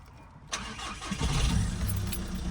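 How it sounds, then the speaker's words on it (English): Volkswagen Scirocco engine catching on the first try: a brief starter whir, then the engine fires and settles into a rough, throaty idle, close and alone. "it might have a hard time starting. But knowing this Scirocco, it probably won't"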